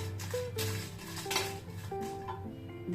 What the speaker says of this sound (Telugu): ఎండుమిరపకాయలు వేయించుకుందామండి. లైట్గా ఇక్కడ లైట్గా వేగితే చాలు